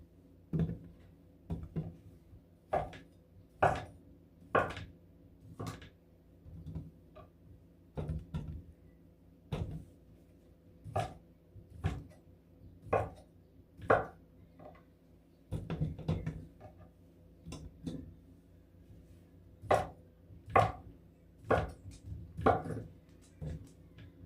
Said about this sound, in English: I'm cutting up the smoked sausage into some really big pieces.